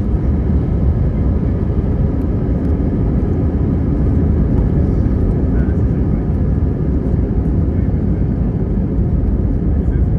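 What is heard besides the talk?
airplane cabin engine noise during flight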